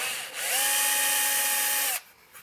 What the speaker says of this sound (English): drill these out, and then I'll do the same thing over on this side and mark these two holes and drill these out